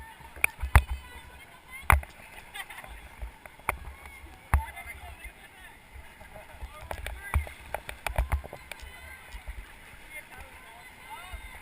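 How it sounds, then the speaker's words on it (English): Paddles work a raft on the American River, with sharp, irregular splashes and strokes close by over a quiet wash of moving water. People talk faintly in the background. "We're still gonna have to paddle."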